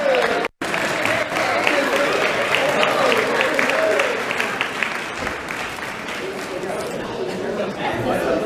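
An awards-event audience claps and cheers steadily for several seconds, a dense wash of applause with crowd chatter mixed in.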